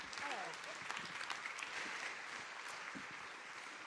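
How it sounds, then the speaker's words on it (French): Audience applause at a national conference hall, steady dense clapping from a seated crowd heard at moderate distance, continuous for several seconds without talk. "Vous pouvez les applaudir."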